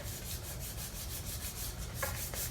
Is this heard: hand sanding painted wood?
yes